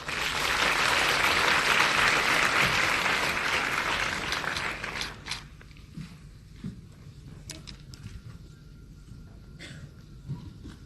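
At a film festival grand opening night, an audience claps loudly and densely for about five seconds before the applause thins out to a few scattered claps in a quieter hall.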